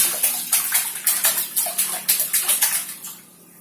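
A child splashes and plays in warm bath water, a quick series of rhythmic slaps and splashes close by, about a dozen in a row before fading into quiet.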